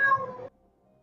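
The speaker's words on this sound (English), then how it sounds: "Kitty cat." A single cat gives one short, close meow that stops abruptly and leaves near silence.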